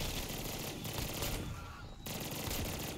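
Rapid light machine gun fire from a Black Ops 3 zombies match in Shadows of Evil, a dense continuous burst running almost the whole time with only a brief lull in the middle.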